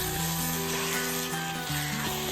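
Duck roast with fried coconut pieces cooks in a pan, a steady sizzling hiss running under prominent background music throughout.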